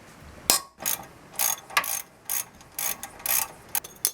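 Short bursts of ratcheting clicks from a lever wrench loosening 17mm front brake caliper bolts on a Mazda MX-5, about ten quick close-up bursts separated by brief pauses, no voices.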